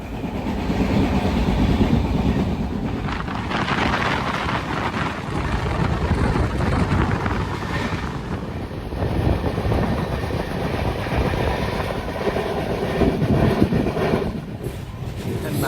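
A Janshatabdi Express train rumbles along the tracks near Nashik on the Mumbai to Chhatrapati Sambhajinagar route, with a continuous loud roar and faint rhythmic clatter, steady throughout with no talking.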